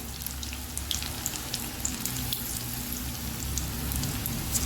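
Spinach (vallarai keerai) bonda deep-frying in oil, a steady close bubbling hiss sprinkled with small crackles and pops, with no talking.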